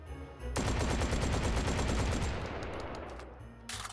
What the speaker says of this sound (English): I just love how fast this thing fires. Good buckshot.